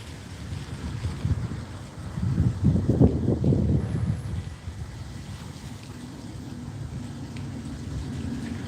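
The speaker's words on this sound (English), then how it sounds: "it's getting pretty windy right now" Wind blows outdoors as a steady low rumbling roar of buffeting gusts against the microphone, swelling loudest for a couple of seconds and then settling into a constant whoosh.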